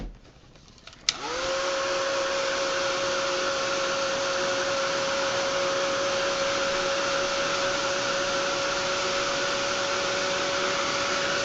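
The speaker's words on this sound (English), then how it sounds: "I am going to just give it heat set it a little bit" A heat tool switches on with a click and blows steadily, a loud even whirring hiss while heat-setting batik paint on canvas.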